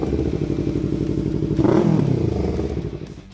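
A Yamaha 321 liquid-cooled parallel-twin motorcycle engine runs at a steady rumble, then briefly revs up and settles back down. The sound is close and even, with no talking.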